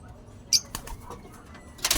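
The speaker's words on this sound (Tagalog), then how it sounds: "papakain tayo ngayon ng mga kalapati natin" A few brief bursts of wing flapping from pigeons outdoors, sharp flutters at the start and end with quieter gaps, close by.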